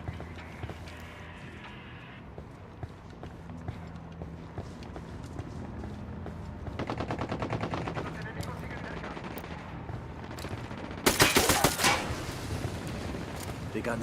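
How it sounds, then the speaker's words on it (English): Gunfire exchange between Unidad soldiers and rebels in Ghost Recon Wildlands, heard as scattered distant shots with a sustained burst of automatic fire around the middle and a sharp, loud volley near the end. "Unidad and rebels exchanging fire"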